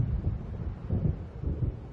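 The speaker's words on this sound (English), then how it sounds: "It seems there's a storm coming" Low, rolling thunder from an approaching storm in the game Alan Wake, heard as a steady deep rumble with a few soft swells and no speech.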